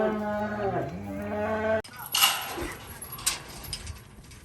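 Cattle, steers and heifers, moo during calf weaning; one long, loud, close bellow is followed by outdoor pen noise with rustling and a few knocks.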